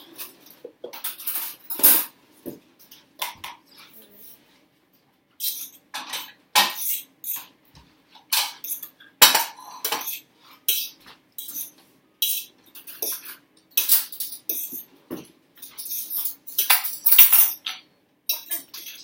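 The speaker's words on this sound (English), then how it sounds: "Do you want to get a fork and go ahead and mix that up?" A fork clinks and scrapes against a dish while food is mixed for a meal prep, in irregular bursts of metallic tapping with brief pauses between them.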